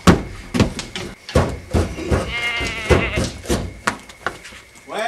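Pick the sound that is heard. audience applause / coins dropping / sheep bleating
sheep bleating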